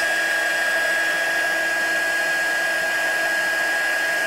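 A heat embossing tool blows hot air in a constant, loud, even whir with a steady high-pitched motor whine, running alone for the whole stretch.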